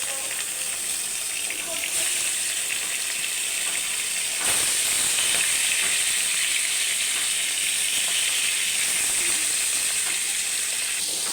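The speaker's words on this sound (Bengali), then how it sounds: "মাছগুলো হলুদ দিয়ে লবণ দিয়ে মাখলাম, ফ্রাই প্যানে তেল দিলাম। তো এখন মাছগুলো দিব।" Turmeric-and-salt-rubbed fish, pangas and rui among them, sizzles in hot oil in a frying pan with a steady, dense crackle and a brief rise in intensity partway through, close by.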